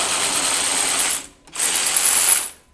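A DeWalt DCF513 20V cordless ratchet spins a nut off in two close, loud whirring bursts separated by a brief pause.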